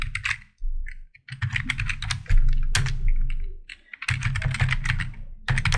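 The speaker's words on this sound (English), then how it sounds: "type that word again as a practice typing" Rapid clattering keystrokes on a computer keyboard come in bursts separated by short pauses, close and clear with no talking.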